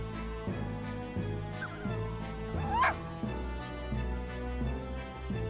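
A dog in the video game Professor Layton vs Phoenix Wright gives a few short, sharp barks over a looping synthesized music bed, with a brief yelping whimper in the middle.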